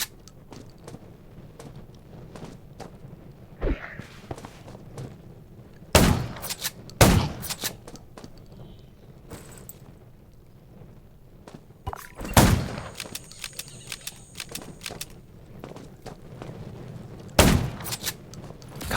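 Gunfire in the zombie video game Undaw sounds as sharp, loud shots and short bursts scattered over a quiet, low rumbling background, the volleys arriving several seconds apart with no talk over them.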